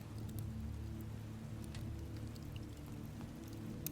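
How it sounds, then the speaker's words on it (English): Steady rain falls against window glass on a quiet night by a fire, a continuous soft wash with scattered sharper drops tapping throughout, heard alone. "the rain went on against the glass"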